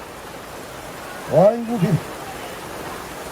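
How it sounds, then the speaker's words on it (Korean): A heavy summer rain downpour pours down as a steady, loud hiss of falling water, with a man's brief exclamation partway through. "비가 완전히 그냥 쏟아집니다. 쏟아져 폭포수가 이야 엄청난 비네요."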